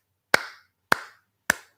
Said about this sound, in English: You would be clapping like